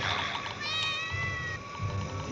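A cat meows once in a drawn-out, tonal cry in a Star Trek episode, close and clear over quiet low background rumble.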